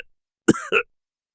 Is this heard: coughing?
yes